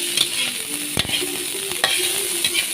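Mackerel fried rice being stir-fried in a pan, a steady sizzle broken by a few sharp scrapes of the spatula, close and alone with no talking.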